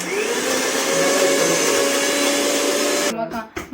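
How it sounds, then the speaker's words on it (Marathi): Kitchen mixer grinder running in a home kitchen, a loud steady whirring motor whine that holds for about three seconds, then cuts off and winds down. "मिक्सर चालू करते द्या."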